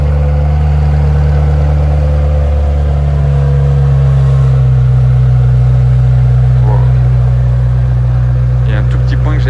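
A McLaren Senna with 825 horsepower runs loud and close, a deep steady engine drone with strong low rumble and slight shifts in pitch.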